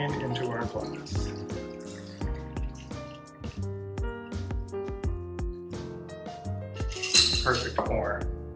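A margarita is strained from a shaker into a salt-rimmed glass, with close clinks of ice against the strainer and metal, dripping and pouring liquid, and a voice talking over part of it.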